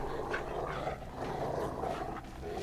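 A dog growls in the video game Beyond: Two Souls, a low, rumbling snarl that stays fairly quiet and steady for a few seconds, with no one talking.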